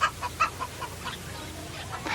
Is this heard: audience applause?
no